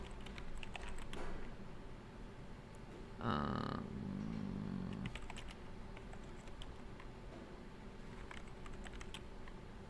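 Quick, light keystrokes on a computer keyboard entering a Linux command, soft clicky taps in short bursts over quiet room hiss, with a brief louder rustle midway.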